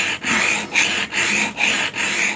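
A L-shaped router plane blade is rubbed on a sharpening stone wet with fluid, giving five even rasping strokes with short pauses between them, close and clear with no talking.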